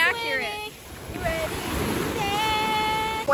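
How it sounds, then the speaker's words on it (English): Ocean waves wash onto a beach in a continuous broadband surf hiss, while voices and whistle-like tones sound over it at the start and end. "Waves, bro."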